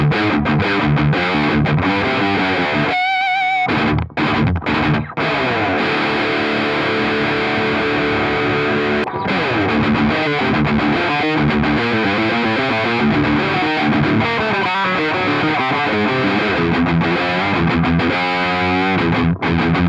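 Heavily distorted electric guitar through a Boss MT-2 Metal Zone pedal set for a scooped-mid, early-2000s metalcore tone, with the gain just above nine o'clock, playing loud, continuous riffs with chugs and sustained chords and a brief pause.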